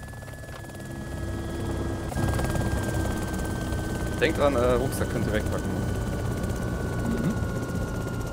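A helicopter in flight in the video game DayZ Overpoch, a loud steady rotor drone and engine whine running throughout while people talk over it.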